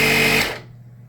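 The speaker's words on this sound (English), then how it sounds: "but there's a compressor here" A battery jump starter's built-in air compressor buzzes loudly with a harsh motor whine for under half a second, then cuts off into near silence.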